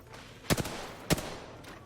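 Two sharp, loud gunshots ring out in a video game, spaced about half a second apart, each a punchy crack with a short tail.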